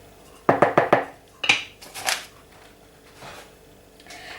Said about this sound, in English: we mix some well in the middle using a wooden spoon